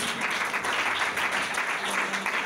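A congregation at a French-language church service applauds, with steady, dense clapping that fills the whole moment at a moderate, even level.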